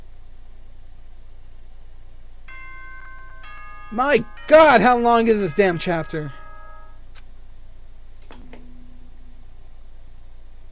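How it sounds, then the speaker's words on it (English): A doorbell chime sounds in the Danganronpa video game, with a sustained electronic tone running beneath a man's brief, exasperated talking, followed later by a short low chime. "Oh, that was my doorbell."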